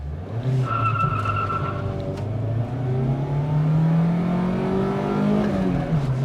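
A Toyota Corolla XEi's EFI engine revs up steadily, its pitch rising and falling over several seconds, loud and close, with no talking.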